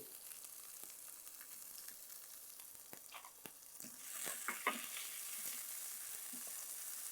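Tomatoes sauté with golden onions in a pan for egg curry, a soft steady sizzle punctuated by scattered spatula scrapes and taps, growing louder and brighter midway, heard alone without speech.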